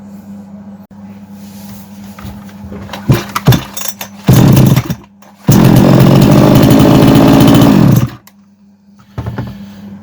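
A Kitprom gasoline chainsaw with a cylinder and piston set fitted for the second time revs in short snarling bursts, then roars at full throttle for several seconds, loud and close.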